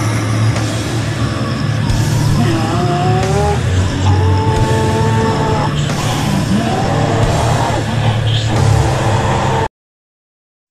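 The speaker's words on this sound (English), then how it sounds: "What a nice race start." Formula 1 cars roaring off the line at a race start, a dense loud wall of engine noise with rising gear-change whines and a sharp squeal, cutting off abruptly at the end.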